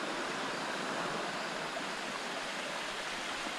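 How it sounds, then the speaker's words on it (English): A rockside waterfall on the Art Loeb Trail in Pisgah National Forest's Shining Rock Wilderness pours in a steady, close, dense rush of falling water with no pauses and no voices. "There's a pretty cool rockside waterfall here along Art Loeb Trail."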